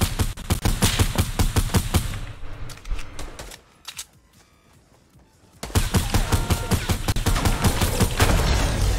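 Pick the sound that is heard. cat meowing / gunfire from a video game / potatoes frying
gunfire from a video game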